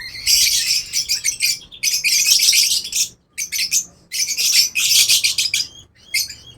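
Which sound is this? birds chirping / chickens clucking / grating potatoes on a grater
birds chirping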